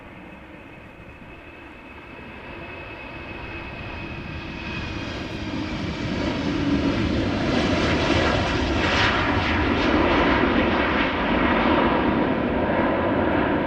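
A KLM Embraer 190 jet at Amsterdam Schiphol roars steadily as a broadband engine rumble, swelling louder and closer partway through and holding strong to the end; a voice speaks briefly and faintly under it.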